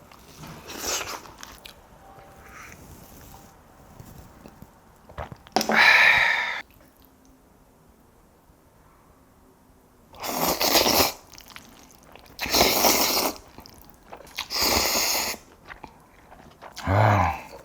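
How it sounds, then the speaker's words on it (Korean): Someone eats spicy, chewy jjolmyeon noodles: close, moist chewing and slurping bites in several short bursts separated by quiet pauses. "한 젓가락 하겠습니다"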